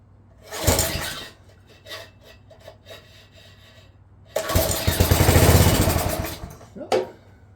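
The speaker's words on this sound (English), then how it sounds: "It's running off the starting fluid." An older Craftsman 5HP rototiller engine running on starting fluid sputters briefly, goes quiet, then catches for about two seconds of loud, rough, close roaring before cutting out, with a final short pop.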